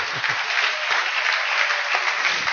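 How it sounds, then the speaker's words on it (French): A church congregation claps loudly and steadily together during a worship service, a dense, continuous wash of applause filling the room for the whole stretch with no voices standing out. "Applaudissons fort le Seigneur."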